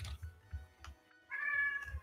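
A house cat meows close by, a clear drawn-out call near the end, with soft low thumps and clicks around it in a quiet room.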